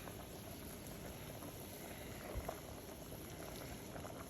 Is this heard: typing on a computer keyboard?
no